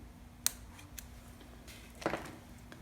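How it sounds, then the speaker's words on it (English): A few sharp, close snips of small scissors cutting thread while tying a crappie jig, with a brief rustle of handling, over a quiet background hum. "take your scissors and come back and cut this right here"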